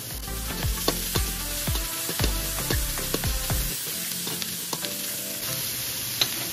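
Fermented shrimp paste (bagoong) sizzles in a pan with sautéed garlic, onion and ginger while cooking laing, a steady frying hiss broken by several sharp utensil clacks and stirring scrapes, close and moderately loud with no talk.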